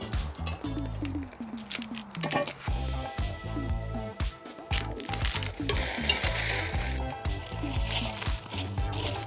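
Gluten-free bread sizzling on a flip-out cooker held over a campfire outdoors in an Alaskan valley, a steady close frying hiss with scattered pops, stirring scrapes and short clanks throughout, no talking.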